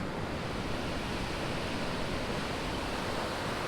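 Waves wash onto the beach at Quimixto near Puerto Vallarta as a steady, even rushing surf noise, continuous and moderately loud with no distinct breaks.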